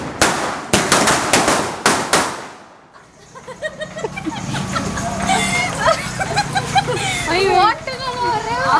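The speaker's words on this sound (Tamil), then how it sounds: "வெங்காய வெடி இது வந்து கீழே போட்டா வெடிக்குமா?" A rapid string of loud, sharp bangs from onion bomb firecrackers during Diwali in the first few seconds, followed by excited voices and children shouting over a lively background.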